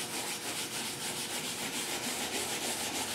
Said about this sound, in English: I can take a little rag and just do it in a circular motion